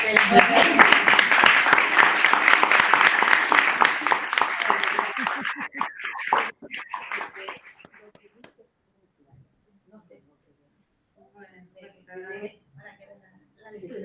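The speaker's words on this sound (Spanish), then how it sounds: "A mí me gustaría hacer una aplauso" Audience applause at a lecture on the poet Luís de Camões. The room claps densely for about five seconds, fades out by eight seconds, and then near-silence follows with a few faint murmurs and soft voices.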